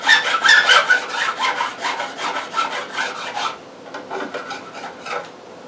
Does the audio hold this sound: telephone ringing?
no